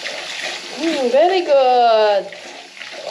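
Running tap water splashing over hands being washed, a steady wash of spray with voices talking over it, including a voice.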